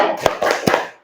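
A classroom group claps in unison as part of a spirit chant, a few sharp rhythmic hand claps close by, ending quickly with no talk.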